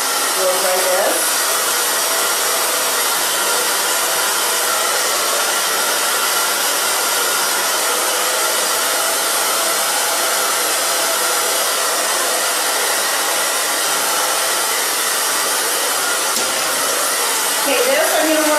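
A hair dryer runs steadily at full blast while drying bangs, producing a loud, constant close-up whoosh and hum that continues unbroken for the whole stretch with no voices over it.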